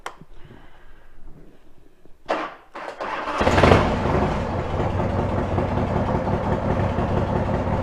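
A Harley motorcycle engine cranks after a few clicks and rustles, catches with a loud roar, then settles into a steady, close, rumbling idle.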